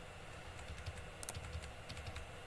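Quiet typing on a computer keyboard while entering a name into a C# cinema booking desktop application, with soft irregular key clicks and a short burst of faster taps near the middle, without any talk.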